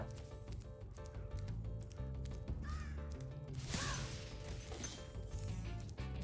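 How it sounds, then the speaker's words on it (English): Big vultures call from above in Cliff Town in Spyro the Dragon, with raspy cawing cries over a steady background of game music. A crash-like burst cuts through midway. "there's a whole bunch of the vultures here"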